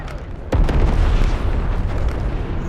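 A helicopter blows up in the Warzone video game: one sudden loud boom at about half a second, then a rumbling roar of fire and debris that stays heavy to the end.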